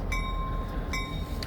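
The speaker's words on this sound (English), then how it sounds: "there's always the freight trains coming through" A freight train rumbles past near the Nesquehoning rail yard, a heavy continuous roll with thin metallic ringing tones over the top.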